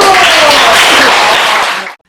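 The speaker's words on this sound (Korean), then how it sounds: "박수!" Middle school students clap together in a home economics classroom after a presentation, a loud, dense burst of applause that fades out quickly near the end.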